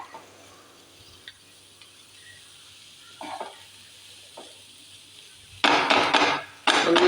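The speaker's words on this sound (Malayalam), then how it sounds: "അപ്പോൾ ഇതൊന്ന് നല്ലോണം ഒന്ന് മിക്സ് ചെയ്യാം." Masala being stirred and mixed with chicken in a pan, mostly quiet with a low sizzle and scattered spoon scrapes, then two loud bursts of stirring and frying near the end.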